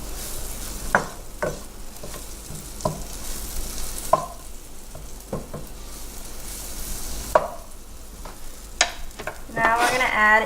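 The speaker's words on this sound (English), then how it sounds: "Cook the butter." Butter cooking in a pan for garlic steamed mussels, a soft continuous sizzle under repeated utensil clicks and stirring scrapes, rising into louder crackling frying near the end.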